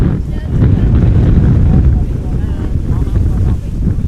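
Gusty wind buffets an outdoor microphone at Amsterdam Schiphol Airport on a windy day, a loud continuous low rumble that swells and dips for several seconds.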